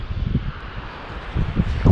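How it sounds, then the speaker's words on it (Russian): Cold wind on the cliffs at Étretat, Normandy, buffeting close to the microphone in low rumbling gusts that rise and fall over the short stretch. "здесь такой холодный ветер"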